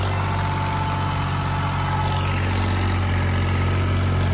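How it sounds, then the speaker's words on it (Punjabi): A farm tractor fitted with a rotavator runs at a steady, loud, droning pitch through the whole stretch, with no voices over it in a Punjab field. "ਆਪਣੇ ਦੋ ਟਰੈਕਟਰ ਚੱਲੀ ਜਾਂਦੇ ਸੀਗੇ ਰੂਟਾ ਵੇਟਰ ਵਾਲੇ"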